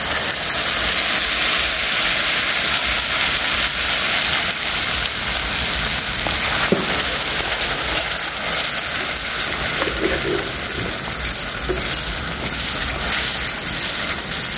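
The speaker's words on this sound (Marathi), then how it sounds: "छान असं खोबरं आणि काजूची पेस्ट छान परतून घ्यायचा" A coconut and cashew masala paste sizzles steadily in a pan for a fasting-day cashew curry, a constant close, loud hiss like rain with faint occasional pops and no talk.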